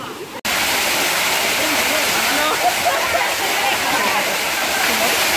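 A campsite waterfall sends a loud, steady roar of water pouring down, close by, after a brief cut at the start, with voices faintly under the rush.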